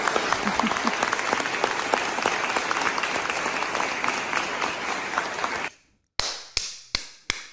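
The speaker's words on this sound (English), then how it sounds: "I'm going to get my own round of applause" An audience at a rally applauds a speaker: dense, sustained clapping for several seconds that cuts off abruptly, followed by a few isolated sharp claps or taps, with no voices.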